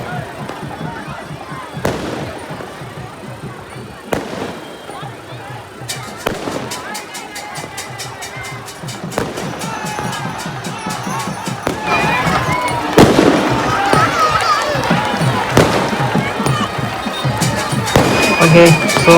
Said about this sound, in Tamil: பட்டாசு விட்டுட்டாங்க.